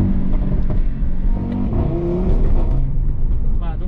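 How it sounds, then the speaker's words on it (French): An Audi RS3's engine and exhaust rev while driving, a loud throaty rise and fall with tonal sweeps, under someone talking. "regardez le bruit sur le RS3 reste quand même très classe"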